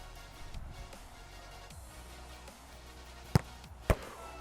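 Two sharp thumps of a football being kicked as shots at a target, a half second apart, over quiet outdoor background.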